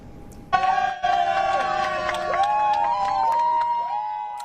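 Crowd on an airport tarmac cheering and applauding for a returning freed prisoner, a steady wash of claps and shouts with car-horn-like toots and whistles rising through it, continuous and fairly loud.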